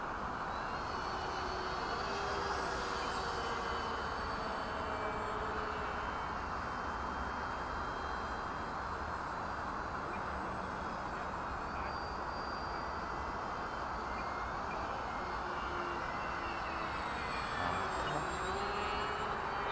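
A Pterodactylus radio-controlled model airplane on its first flight drones steadily overhead, a constant buzzing engine tone heard from a distance throughout, with a faint voice now and then.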